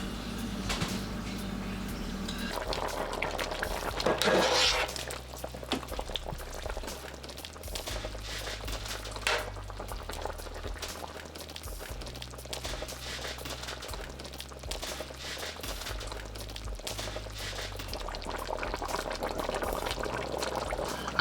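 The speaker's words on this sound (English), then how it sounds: "Now I'm gonna add the rest of seasoning." A pot of oxtail rundown simmers and bubbles steadily on the stove, with a brief pour or sprinkle as seasoning goes in and some light kitchen clatter, and no talking.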